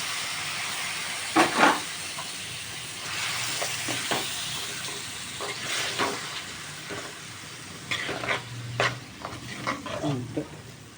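Two tomatoes ground to a paste fry in oil in a pan, giving a steady close sizzle broken by scraping stirring strokes, with no talk.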